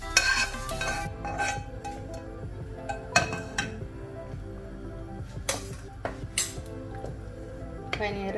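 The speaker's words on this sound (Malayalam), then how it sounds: "പനീറിട്ട് ഇളക്കുക." Paneer cubes being stirred in a pan for Mumbai-style palak paneer, with spoon scrapes and clinks against the metal over a faint sizzle, in bursts throughout.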